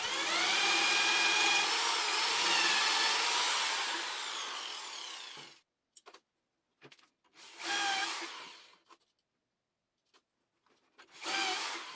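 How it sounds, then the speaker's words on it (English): A power drill bores dowel holes into wood through a jig with a depth-stop sleeve on the bit, a long loud whirring bore followed by short bursts and two more drilling runs separated by silence. "So now I need to drill some holes to put dowels in"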